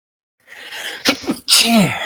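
A single loud, sharp sneeze bursts out after a brief breathy lead-in, close by with no talking.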